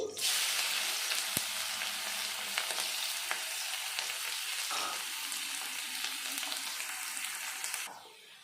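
Crushed garlic frying in mustard oil with tempering spices, a bright, close, steady sizzle with a few sharp clicks of a utensil, cutting off abruptly near the end.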